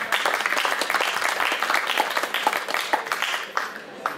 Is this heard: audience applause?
yes